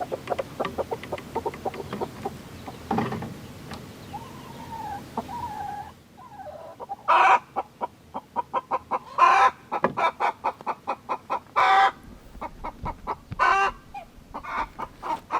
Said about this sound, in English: Chickens are so weird.